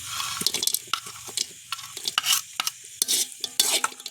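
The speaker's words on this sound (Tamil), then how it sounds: "இந்த நிறக்கரையோட பொறிச்சு வச்சுருக்க இறைச்சியையும் சேர்ப்போம்" Fried meat being tossed and stirred into string hopper kottu in a pan, with rapid, loud scraping and clattering strokes over a wet background sizzle, close by and without speech.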